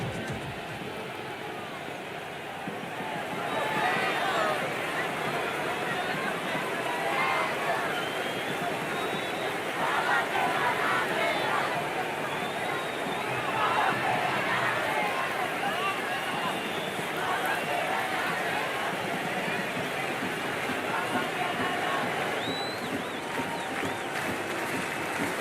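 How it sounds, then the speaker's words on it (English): Stadium crowd at a cricket match in the Cricket 26 video game, a steady dense roar of cheering and babble sustained throughout, swelling slightly in places, with commentary speech mixed in. "The crowd is electric right now."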